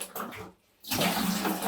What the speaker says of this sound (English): So if you could just drop some water in there